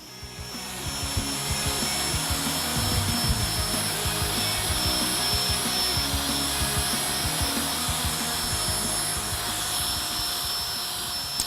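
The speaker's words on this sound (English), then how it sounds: "Start sanding." Sandpaper of 800 grit rubbed back and forth over a plastic car headlight, a continuous close gritty scrubbing with rapid strokes and a faint steady whine underneath.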